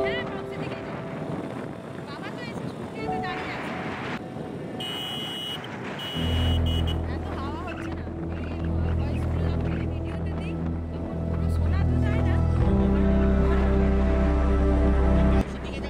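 Father's motorbike carrying two riders along a road, a continuous engine drone with wind rush, rising in pitch and loudness partway through, under a voice talking.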